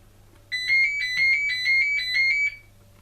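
A phone ringtone sounds loudly in a rapid electronic trilling pattern for about two seconds, then cuts off, over a low background hum.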